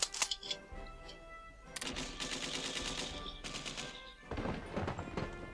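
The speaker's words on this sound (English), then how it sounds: "And we're being bombed" Rapid bursts of game gunfire and bombing clatter in Hearts of Iron III, a dense crackling barrage that swells and fades in waves over a steady low rumble, fairly loud with no voices.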